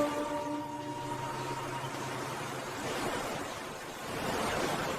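Sea waves wash onto a shore with sea wind, a steady broadband rush of surf that swells louder toward the end, with no voices.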